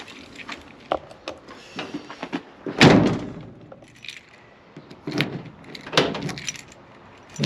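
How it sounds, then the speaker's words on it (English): A VW LT van's rear door is shut with a heavy slam near the middle, surrounded by metallic clicks, latch rattles and key jangling as it is locked, close up and fairly loud. "Actually lock the back door now"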